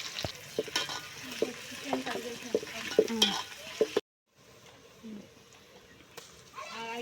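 Chopped onions and cardamom sizzle in a pan while a spoon stirs them in sharp scraping clicks up close, then the sound cuts out and a quieter sizzle follows.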